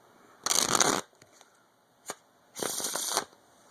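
Two crisp riffle shuffles of playing cards, each a quick half-second flurry of fluttering card edges, separated by a single soft tap; close and clear with no talking.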